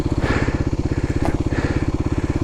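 A Kawasaki KLX300SM motorcycle engine chugs close by at a low idle, its steady, rapid thumping running evenly throughout with no clear cut-out.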